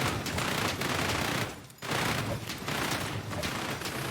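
Deployed turrets in the video game Repetendium fire in dense, continuous bursts of rapid gunfire, loud and close, with one brief lull midway before the volleys resume.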